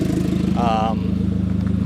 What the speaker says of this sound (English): there's a huge exhaust leak